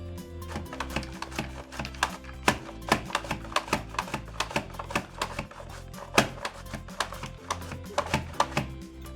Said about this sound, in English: now let's do some carrots. I'm gonna set it to julienne on the number 4 thickness